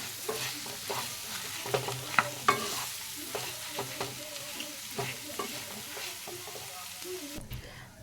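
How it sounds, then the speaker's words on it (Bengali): Potato filling for dosa stirred in a hot pan, with steady sizzling and repeated scraping strokes of a spoon across the pan over about eight seconds, close and clear, no talk. "এবার আমি ভালো করে মিক্স করে নেব।"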